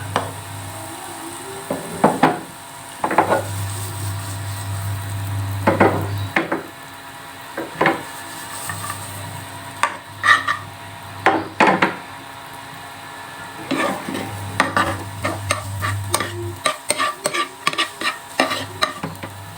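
Onions and carrots sizzle and fry in a pan while a utensil stirs and scrapes repeatedly, with a steady low hum underneath.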